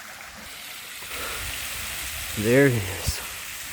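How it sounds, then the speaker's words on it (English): A small waterfall spills into a stream outdoors, making a steady, rushing wash of water throughout. A voice speaks briefly partway through. "Little small waterfall."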